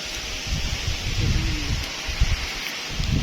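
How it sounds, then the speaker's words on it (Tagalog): Gusty wind roars and buffets against the microphone with low rumbling thumps and a steady hiss, fairly faint overall. "Sobrang ang lakas ng hangin talaga"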